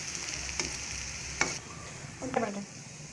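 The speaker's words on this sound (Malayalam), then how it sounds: "അപ്പം നമ്മുടെ ഉള്ളി മുരിഞ്ഞ് റെഡി ആയിട്ടുണ്ട്." Onions frying in a pan for a prawn dry fry, a steady close sizzle with a few sharp clinks and scrapes of a spatula stirring, no talking.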